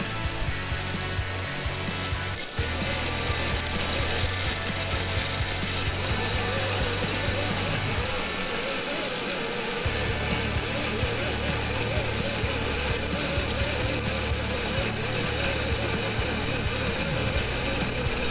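A grain mill crushing malt at slow RPM with a wide gap setting, a steady grinding, rattling mechanical drone with a low motor hum running throughout, close and continuous, a voice faintly beneath.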